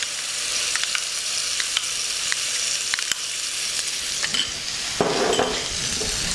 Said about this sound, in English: So now the jeera is sizzling